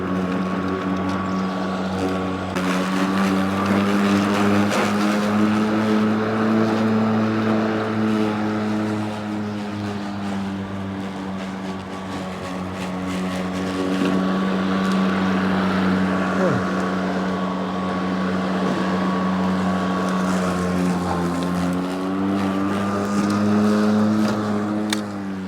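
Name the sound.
garden trimmer running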